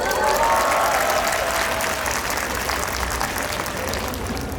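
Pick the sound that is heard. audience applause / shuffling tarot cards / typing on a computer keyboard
audience applause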